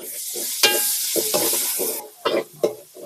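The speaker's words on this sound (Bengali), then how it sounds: "আদা রসুনটা ভাজছে" Ginger-garlic paste sizzles and crackles in a hot pan for a chicken roast, with loud bursts of spatula scraping and stirring against the metal throughout.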